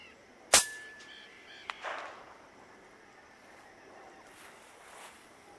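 A shot striking water outdoors, fired from low among tall grass. One sharp, loud crack stands out against quiet surroundings, followed by a fainter click and a brief washing decay.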